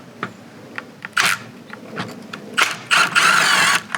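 A T30 Torx driver works a bolt loose on a 2015–2018 Volkswagen Jetta VI front end near the active grille shutter: close, short mechanical clicks and ratcheting bursts, ending in a longer scraping, whirring run, with no talk.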